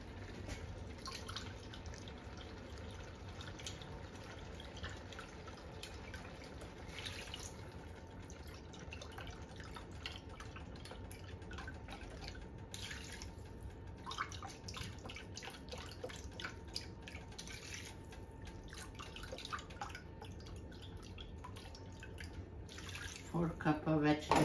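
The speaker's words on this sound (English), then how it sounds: "I'm gonna add the vegetable broth now, 4 cups of vegetable broth." Four cups of vegetable broth are poured into a pot of Hungarian goulash, a faint, steady liquid trickle and splash running throughout, with a few clinks near the end.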